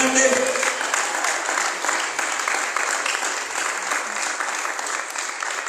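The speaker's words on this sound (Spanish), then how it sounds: "denle un aplauso grande" A church congregation claps enthusiastically at a service, steady dense applause filling the room from start to finish, loud and close with no talking over it.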